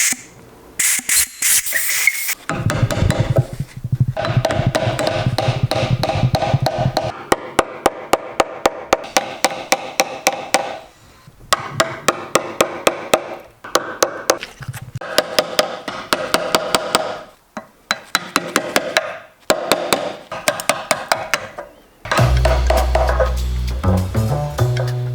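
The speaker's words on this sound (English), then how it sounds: "Here's the holes, and then we're going to chisel out the rest of the meat" Chisel struck repeatedly into a thick wood slab to clear out drilled holes for a bus-conversion kitchen counter, sharp rapid taps in bursts with short pauses, close and loud, with a hiss at the start.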